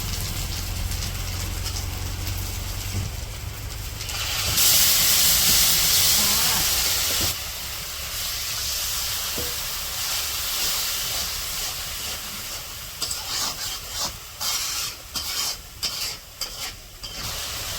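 Turmeric, chili powder, salt and ginger-garlic frying in hot oil in a wok make a continuous close hiss and steam sizzle with a louder surge in the middle, followed by stirring clatter.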